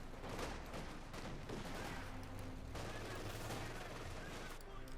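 A 6-pounder anti-tank gun fires in the strategy game Company of Heroes 2, mixed into a dense battle of repeated gunfire bursts and explosions, with a steady rumble of combat underneath.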